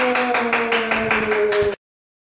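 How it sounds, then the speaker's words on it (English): Rapid hand clapping in a workshop, a steady run of sharp claps over a faint constant hum, ending abruptly after under two seconds. "Clap."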